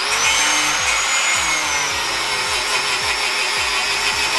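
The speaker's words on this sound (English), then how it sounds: "we're gonna do the fun part and do some grinding" A loud power tool grinds continuously during a car suspension coilover install, a harsh high whine over rough mechanical noise with no pauses.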